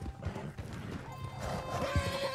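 Horse in the Red Dead Online video game whinnies loudly and nearby, with hoof clip-clops and outdoor game ambience around it.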